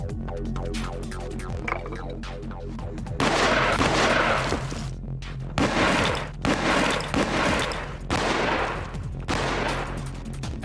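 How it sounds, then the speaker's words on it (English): A reproduction cannon fires at point-blank range into a brick wall, giving several loud booming shots with crashing impacts, separated by brief quieter gaps, with no voices. "Each side will be shot at from point-blank range with this reproduction cannon."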